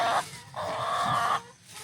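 Close-up egg-laying hens on a farm cluck and squawk in drawn-out, throaty calls, two overlapping bursts with a short pause between them.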